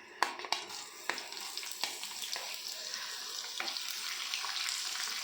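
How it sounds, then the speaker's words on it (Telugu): Tempering spices and green chilies sizzle and crackle in hot oil in a pan, a steady frying hiss punctuated by sharp pops and a few spoon clinks, with no talking. "హీట్ అయిన ఆయిల్లో తాలింపు దినుసులు,"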